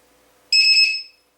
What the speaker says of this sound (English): Some of these have an audible alarm